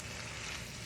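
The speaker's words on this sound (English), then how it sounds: "Okay, time to stir this around." Shrimp scampi with linguine sizzles and is stirred in a hot pan, a steady close frying hiss filling the short moment with no talk.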